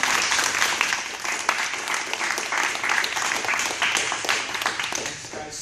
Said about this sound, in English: I think a big round of applause is due for these.